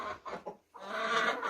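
Chickens in a henhouse, including Brahma hens, cluck close by in a few quick bursts, pause briefly, then break into a denser, continuous run of clucking.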